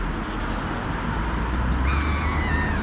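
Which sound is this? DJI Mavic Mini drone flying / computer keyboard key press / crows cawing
crows cawing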